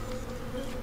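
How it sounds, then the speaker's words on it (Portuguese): In the sci-fi horror game Dead Space, mosquitoes buzz in a steady, dense whine that fills the short moment without a break. "tá cheio de mosquito aqui"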